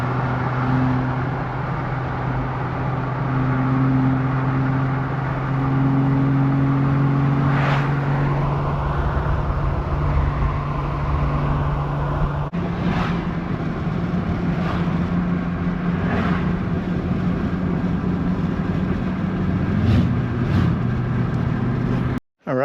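A car drives steadily on a road, a constant close engine and tire drone that shifts pitch partway through, with a few soft knocks and no talk.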